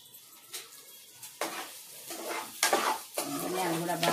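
Coriander seeds fry in oil in a pan while making curry leaf powder. A moderate sizzle builds, broken by irregular stirring scrapes and clinks against the pan.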